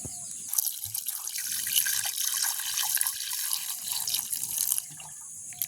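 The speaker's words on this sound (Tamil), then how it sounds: "இனி கருவாடை நாங்கள் கழுவி எடுப்போம்." Dried fish washed under running water, a close, steady splashing flow of tap water into a bowl with drips and churning as the fish is handled, ending with a quieter trickle.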